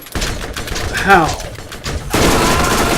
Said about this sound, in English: Shooting me through the wall.